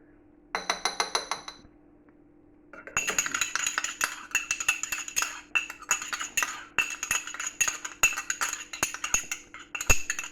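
A utensil stirs a miso mixture in a bowl, quick rhythmic clinks and scrapes close up. A short burst comes first, then a pause, then steady continuous stirring.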